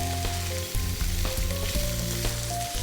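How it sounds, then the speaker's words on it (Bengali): Mixed vegetables, including yardlong beans, peas and carrot, fry in deep oil for spicy pakora, giving a loud, continuous close-up sizzle with bubbling crackles throughout. "এটাকে ভেজে নিচ্ছ প্রথমে"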